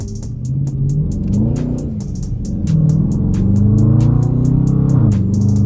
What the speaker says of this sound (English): My tires spinning like a motherfucker.